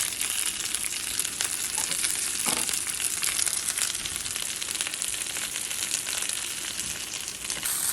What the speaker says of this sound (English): And we're just gonna whisk that around.